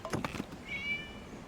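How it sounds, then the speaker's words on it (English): A cat meows once in Genshin Impact, a rising, drawn-out in-game mew near the middle, following a few soft knocks and thumps, with quiet background ambience and no talk. "what's that sound? A cat?"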